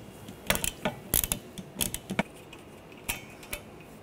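Socket ratchet on a 15 mm wiper arm nut of a Ford Escape gives a handful of close, crisp metallic clicks in short uneven bursts, with quieter ticks in between.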